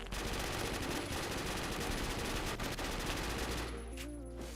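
Sustained automatic SMG fire in the shooter game Phantom Forces, a loud, continuous rattle of rapid shots lasting about four seconds before stopping, followed by quieter game sounds.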